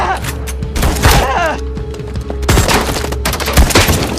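A rifle fires in a tense film scene, with loud bursts of gunshots and booming impacts in quick clusters, broken by short gaps and mixed with shouting voices.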